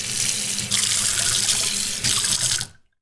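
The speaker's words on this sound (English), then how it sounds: "go and wash our hands" Water from a running tap splashes into a sink as hands are washed beneath it, a loud steady gush with shifts in tone as the hands move, then it stops abruptly.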